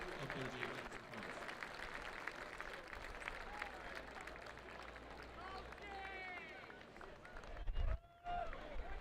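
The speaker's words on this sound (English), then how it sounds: "Please join us in a round of applause for Sandy and Jane." Audience applause at a Johns Hopkins men's lacrosse game against Maryland: a steady, broad wash of clapping and crowd noise that runs throughout, with a brief loud thump near the end.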